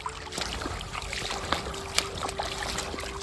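River water flowing outdoors, a steady low rush with faint trickles and small splashes throughout, fairly quiet and close by.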